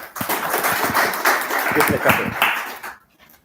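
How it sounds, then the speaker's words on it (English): A conference audience gives a short burst of clapping that swells, holds for a few seconds and then cuts off sharply, with a voice audible over the applause. "Thank you for a hand of applause."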